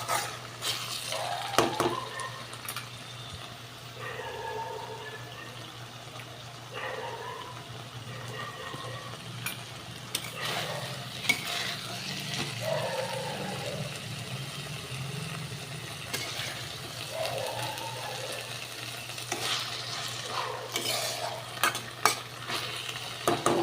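Fish frying in oil in a pan for a Bengali recipe, a steady sizzle with occasional stirring and scraping clinks, fairly close, no talking.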